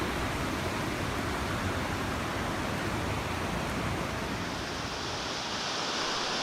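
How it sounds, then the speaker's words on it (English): Floodwater pours out of a Las Vegas casino parking garage and down into a drainage channel, a steady, loud, broadband roar of rushing water with no breaks and no voices. "you'll see the water coming out of the parking garage and continuing on its way down into the drainage channel"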